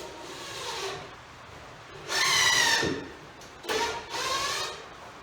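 Screws being driven into wooden framing for a grain-building divider, heard as a close power driver whirring in two or three bursts of a few seconds each, with rasping wood grind between quieter pauses.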